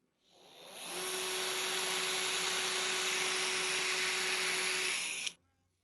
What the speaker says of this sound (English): I'm going to start with this little screwdriver here since it's pretty weak